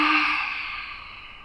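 One long, deep exhale during yoga breathing practice, a close, breathy sigh that starts strong and gradually fades away.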